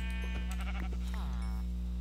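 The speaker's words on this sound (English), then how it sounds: "I found sheep up here" Minecraft sheep bleat in a video game, a couple of wavering, nasal baa calls standing out clearly over a steady low electronic hum.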